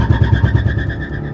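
Maruti Baleno and Swift cars launching together at a drag race start, a loud, close engine drone with a fast pulsing throb that steadies as the cars pull away.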